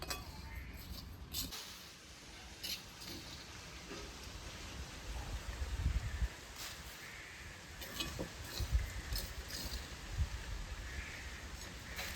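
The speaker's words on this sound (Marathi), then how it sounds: "ए पावसा जरा थांब 5 मिनिटं, 5-10 मिनिटं. तुझे दिवस तर नाहीये तरी पडतोय." Rain falls in the Konkan region as a faint, steady patter with occasional clinks and knocks nearby. It is soft and continuous, and nobody speaks.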